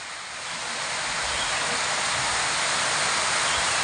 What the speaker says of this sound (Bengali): এই সাইড দিয়ে বয়ে আসছে ঝর্ণা